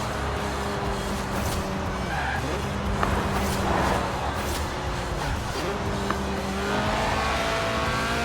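A Lotus Elise Sport 190 with a 1.8-litre engine revving to 8,000 RPM in the racing game Forza Horizon 4, its engine note rising and dropping through gear changes, with a person talking over it.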